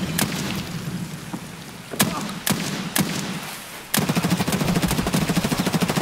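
Gunfire in Escape from Tarkov, in a forest map: several loud single shots are spaced apart, then a rapid sustained burst of automatic fire rattles near and close at the end.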